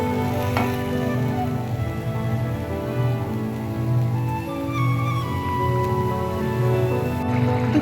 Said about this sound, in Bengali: মশলাটা কষে নিচ্ছি